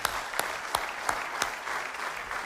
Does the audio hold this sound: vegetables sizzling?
no